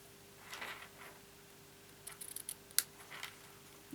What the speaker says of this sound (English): So I'm just going to trim this off.